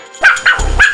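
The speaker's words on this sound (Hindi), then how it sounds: "कितना क्यूट डॉगी है" A small dog yaps three or four times in quick, sharp barks, close and loud, with a low rumble under the last ones.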